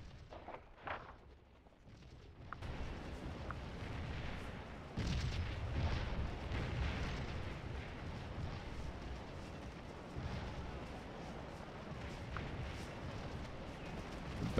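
Canister artillery fire in the Civil War game Scourge of War: Antietam, a dense rumbling mass of distant cannon booms and musketry rolling continuously without pause, steady and moderately loud, no voices.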